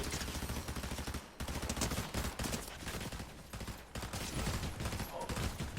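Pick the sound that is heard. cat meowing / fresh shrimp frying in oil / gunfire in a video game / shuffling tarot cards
gunfire in a video game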